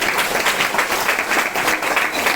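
A crowd claps together in dense, continuous applause, fairly loud and close, holding steady without pause.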